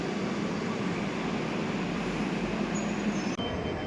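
A metro train passing close by makes a continuous, loud, broadband rumble and rush that holds steady, then drops off abruptly near the end.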